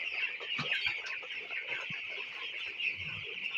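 A flock of 17-day-old broiler chickens in a poultry shed, their soft, continuous clucking and peeping blending into a faint, steady chatter with a few louder calls.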